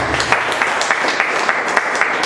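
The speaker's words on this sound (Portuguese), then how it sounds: "E que as palmas louvem a Deus" A church congregation claps in praise after a prayer, a loud, dense and steady applause that fills the room at close range with no speech over it.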